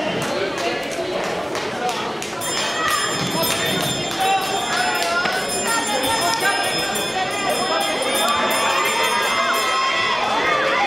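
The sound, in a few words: last-lap bell ringing at an athletics 1000m race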